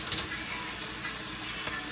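An expensive cut of beef sizzles on a hot grill, a steady close crackling hiss with a few brief sharper pops, heard alone without talk.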